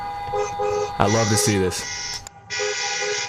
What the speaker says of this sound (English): making themselves known with honking.